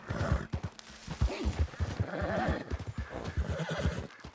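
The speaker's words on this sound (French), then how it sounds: "le cheval, il est nul, ce cheval" A horse in the Red Dead Redemption 2 video game whinnies and snorts over a steady clip-clop of hooves, close and continuous through the whole stretch.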